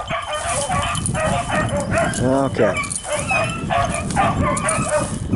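Four hunting dogs bay and yip while chasing outdoors, overlapping excited barks and whines nearby, with someone speaking briefly over them.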